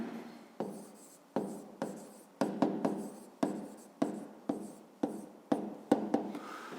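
A pen writes a fifth-grade maths solution by hand on paper. About a dozen quick, close strokes and taps sound in an even rhythm against a quiet room, with no voice.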